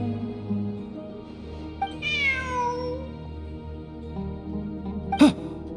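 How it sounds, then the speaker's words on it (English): A cat in a video game gives a long, drawn-out meow that rises and falls, set over a soft sustained musical background, then a brief sharper sound near the end. "Look, a cat."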